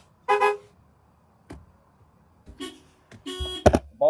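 Car horns honk in several short, loud, blaring blasts, one early and a cluster near the end, with near silence between them.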